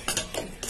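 A utensil stirs a tomato sauce mixture in a pan, making three quick, scraping swishes in a close, brisk rhythm with no talk.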